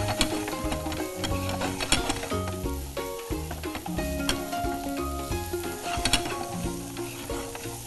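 Garlic fries in a pan until crunchy, producing a continuous sizzle with occasional clicks and scrapes, set against a busy musical backing with no voices.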